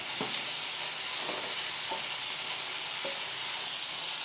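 Onions sauté in a pan with a steady, even sizzle, broken by a few light stirring taps against the pan. No voices are heard.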